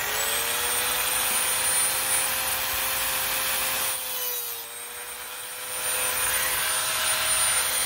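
An angle grinder cuts through a metal gear on a Himiway e-bike drivetrain, a loud steady high whine with a grinding rasp that dips briefly mid-cut and then resumes at full strength.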